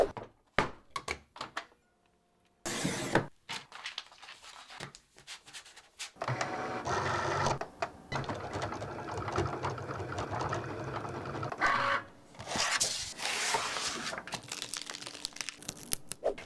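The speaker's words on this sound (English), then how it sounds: "I used my Cricut to cut out these decals" A Cricut cutting machine cuts out vinyl decals in bursts of whirring, crinkling and clicking, with separate quiet pauses early on and then a long, steady stretch of close mechanical cutting noise.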